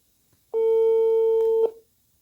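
A single phone call ringing tone, a clean steady electronic beep lasting about a second, loud and isolated against near silence.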